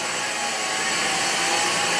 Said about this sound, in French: T'as peur de l'aspirateur.